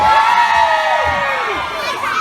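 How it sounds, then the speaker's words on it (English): A crowd of women and children cheers and shouts loudly at an outdoor family event at Combe Haven in Hastings, a close burst of whoops and high voices that gradually fades. "Women, if you think you're the better drivers, give me a cheer."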